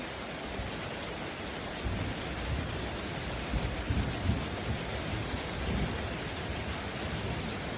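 Steady, dense rain pours down with a low rolling rumble of thunder underneath, a constant wash of noise with no voices.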